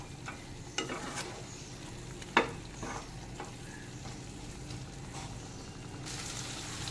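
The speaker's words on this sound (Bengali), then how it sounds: "মশলাটাকে একটু ভালো করে এখানে কষে নেব।" Spice paste and chopped taro are stirred and fried together in a pan for a prawn and taro curry: a faint, steady sizzle with occasional soft scrapes and knocks of the spoon, and no voices.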